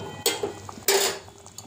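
A metal lid set onto a cooking pot of fish curry with vegetables, two close clanks of metal on metal with a lighter rattle between and a faint tick after, no voices.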